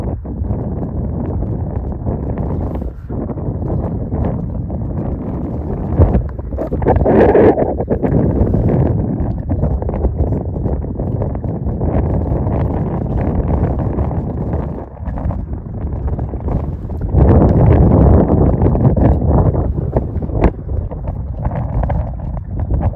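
Steady wind blowing at the seashore during shore net fishing, a loud continuous rushing roar with microphone buffeting that swells twice, no voices.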